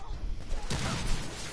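Rapid gunfire rattles through a firefight in The Order: 1886, a dense burst of shots in the middle distance with voices shouting over it.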